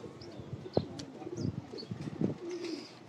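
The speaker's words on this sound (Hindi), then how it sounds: "परवाज़ी कबूतर हैं" Domestic flying pigeons coo softly in a loft, low throaty calls repeating irregularly at close range with a few light chirps and rustles.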